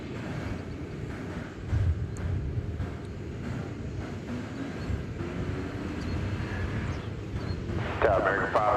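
A distant Airbus A300 airliner taxiing at Dallas/Fort Worth International Airport, a steady low rumble with broadband wind-like roar, slightly rising near the end, while a person speaks over it.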